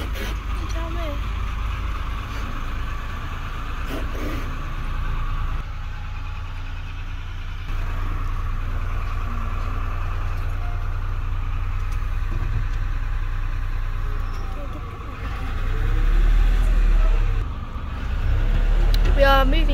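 A car idles and rolls onto a ferry boat beside other vehicles near Cape York, Australia, a steady low engine rumble running throughout and swelling louder toward the end, with people talking over it.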